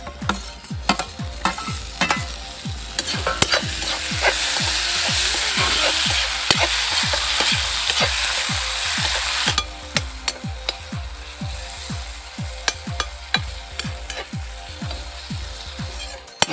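Chopped onions sauté in a pan, a steady sizzle underlying rapid, rhythmic scraping and tapping of a spatula stirring throughout, briefly swelling louder in the middle, no talking.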